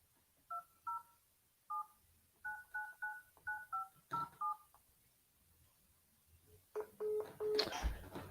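Phone keypad tones beep out a number in quick bursts, clear and near, followed by a harsher tonal signal as the call to a number that is not working fails; no talking.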